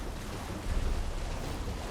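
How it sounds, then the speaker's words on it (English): Rushing water from riding a waterfall in Elden Ring: Shadow of the Erdtree, a steady broadband wash with a slightly louder swell partway through, no voices. "And we're going to ride this waterfall back"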